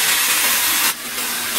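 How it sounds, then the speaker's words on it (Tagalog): Marinated pork sautés in a pan with garlic and onion, a loud, steady hiss of frying that dips briefly partway through before the sizzle continues. "isusunod ko na ring igisa itong marinated pork"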